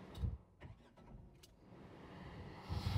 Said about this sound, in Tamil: வண்டி இப்போது ஸ்டார்ட் ஆயிடுச்சு.